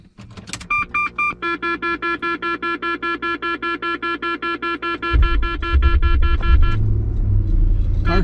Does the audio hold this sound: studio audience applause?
no